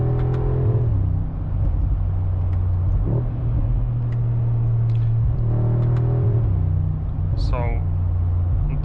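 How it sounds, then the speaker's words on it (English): Deep V8 exhaust note from a 2025 facelift Mercedes-AMG G63, a continuous low drone that swells with short revving surges and then settles back to a rumble, close and fairly loud throughout. "And you get this sort of like frequency from the exhaust."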